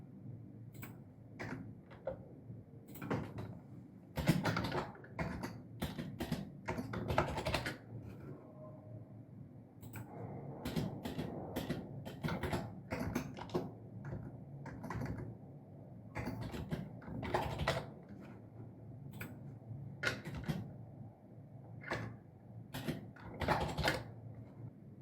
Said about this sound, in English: Then here's me typing away.